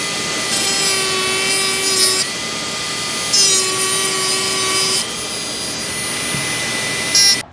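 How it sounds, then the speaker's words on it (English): A power drill bores into the metal roof of a van, whining loudly in two long bursts separated by a short pause, followed by quieter rattling and a brief final burst. "now I've got to go drill more shavings"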